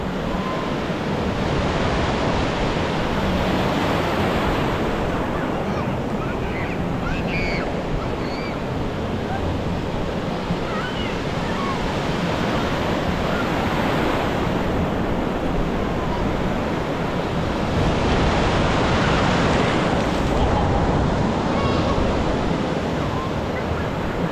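Continuous surf rolls onto a crowded beach where many people are swimming, a broad steady wash of breaking waves mixed with wind buffeting the microphone.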